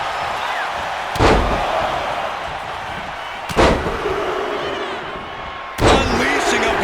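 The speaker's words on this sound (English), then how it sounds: "Pulled back into the hip toss." Three heavy slams from a video game wrestling match featuring Hulk Hogan, each a sharp broadband impact followed by a short decay, spaced about two seconds apart over a steady background crowd roar.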